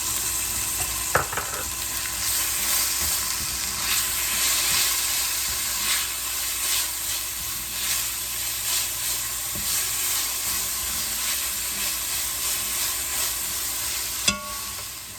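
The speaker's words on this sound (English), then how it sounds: "I've given the peppers and onions and garlic a little stir." Peppers, onions and garlic sautéing in a pan for a low-carb pumpkin chili, a loud, even sizzle held steady throughout, with a couple of sharp utensil knocks and no voices.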